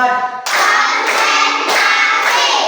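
A classroom of students clapping together in a dense, continuous burst, loud and close, with a brief pause before the clapping swells and carries on steadily.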